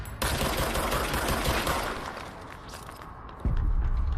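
Sustained rapid gunfire from enemies in the game Control, a dense continuous burst of shots up close for several seconds, easing slightly, then a heavy new blast near the end, with no talk.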